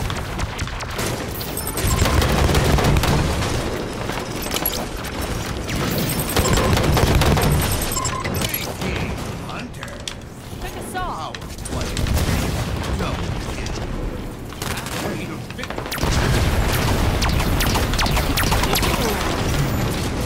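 Sniper rifle shots and gunfire in Halo 5 Guardians, a big team fiesta match, with loud booms and bursts of fire over dense, continuous game noise and explosions.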